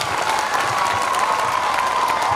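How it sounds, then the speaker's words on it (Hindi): Audience at a government senior secondary school's annual function applauding the teachers, a dense, steady clapping that holds loud and even throughout, with a faint sustained tone running underneath. "एक बार इनके लिए आप सभी ताली जरूर बजाइएगा"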